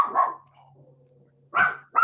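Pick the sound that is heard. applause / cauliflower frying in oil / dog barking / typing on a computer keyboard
dog barking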